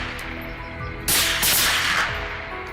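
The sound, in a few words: gunshots during a wild boar hunt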